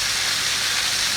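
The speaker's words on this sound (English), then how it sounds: "Just going to whack a bit of butter in." Loud, constant hissing sizzle of butter hitting a very hot pan with searing picanha steak, a dense, unbroken frying noise.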